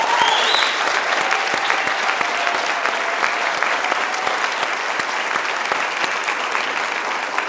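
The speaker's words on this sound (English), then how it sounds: "one last big round of applause for all of these award recipients" Dense, steady applause from a large audience at a high school class night awards ceremony honoring award recipients, loud and sustained throughout with no talking over it.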